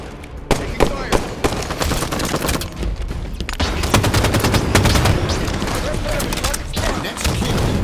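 Gunfire in a Halo 5 ranked Slayer multiplayer match, with dense rapid automatic shooting and sharp individual shots running throughout, loud and close, mixed with brief voice callouts.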